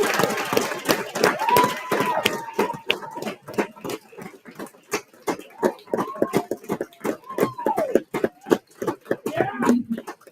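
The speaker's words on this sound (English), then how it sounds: "if we could just get a large round of applause for our candidates" At a student council debate, an audience gives a round of applause for the candidates, with irregular clapping from a modest crowd and voices and murmurs running through it.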